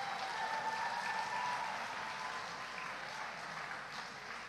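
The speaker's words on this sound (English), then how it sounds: "May I invite a round of applause for the newest graduates in town." A high school commencement crowd applauds the new graduates, a full sustained wash of clapping from a large audience that stays strong throughout and slowly eases off toward the end.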